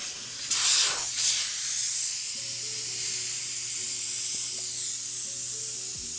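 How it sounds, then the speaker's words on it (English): Compressed air bursts loudly from an airbrush compressor tank as it is drained, a sharp hiss that tapers into a long steady rush while a low hum continues underneath. "just draining the airbrush compressor."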